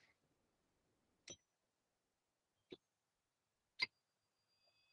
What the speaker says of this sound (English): It starts with bells.